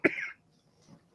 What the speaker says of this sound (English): Still got a cough.